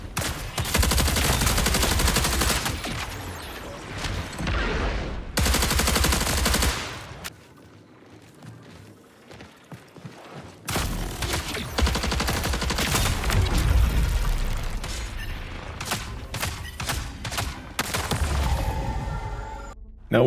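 Shots traded back and forth in a PvP firefight in the shooter game Marathon, with dense bursts of rapid gunfire and booms that stop in a brief lull and then resume, loud and close, with no talking.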